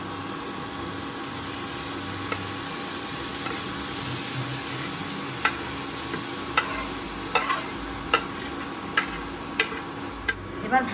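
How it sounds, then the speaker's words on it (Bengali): Grated carrots for carrot halwa sizzle in hot melted ghee, a soft steady frying hiss broken by regular scraping taps of a spoon stirring the pan. "এবার আমরা গ্রেট করা গাজরগুলোকে ঘিয়ের মধ্যে দিয়ে দেব।"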